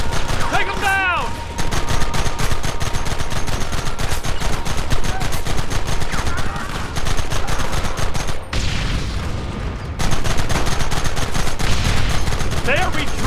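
Loud, dense gunfire rattles through a shootout in Red Dead Redemption, with rapid overlapping shots and volleys that continue almost nonstop apart from a couple of brief lulls. Voices shout amid the shooting.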